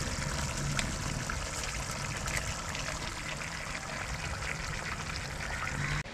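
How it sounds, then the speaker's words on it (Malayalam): Boiled unsalted tapioca goes into simmering Kerala-style kappa biryani gravy, a steady faint bubbling sizzle with a light watery trickle and no talk. "നമുക്കതിലേക്ക് നമ്മൾ നേരത്തെ ഓൾറെഡി പുഴുങ്ങി വെച്ചിട്ടുള്ള കപ്പ ഇട്ട് കൊടുക്കാം"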